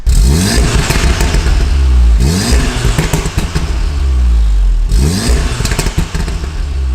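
Loud Volkswagen Golf R exhaust roars through three sharp revs, the engine note climbing and falling with rough, crackling pops in between, up close.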